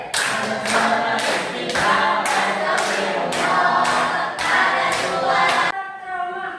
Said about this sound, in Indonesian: Tepuk zikir